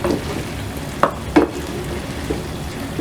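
Fried chicken lollipops being mixed into masala in a pan: a low sizzle with a couple of quick clattering stirring strokes, close up and without talk.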